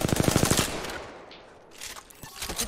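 Rapid automatic gunfire bursts loudly in the first half-second of an Apex Legends firefight, then a shorter burst of shots returns near the end.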